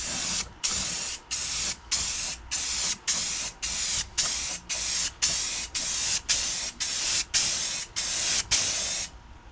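Spray paint hisses loudly onto a car headlight cover in about fifteen regular, even bursts, each lasting roughly half a second and separated by short gaps, before the spraying stops.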